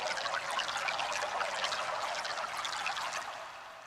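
A Boss GM-800 guitar synth patch imitating a water stream gives a continuous bright trickling, pouring wash that fades slightly at the end.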